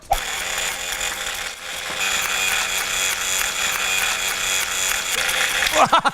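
A motorized playing card machine gun runs with a loud, steady mechanical whirring drone, sustained for several seconds, after a brief pause near the start, with rattling clicks at the end.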